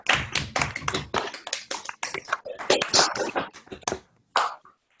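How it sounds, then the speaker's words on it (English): Scattered applause from participants in an online video meeting, a handful of uneven hand claps and taps arriving through microphones, irregular and close, thinning out toward the end with brief gaps of silence. "Let's have a round of applause."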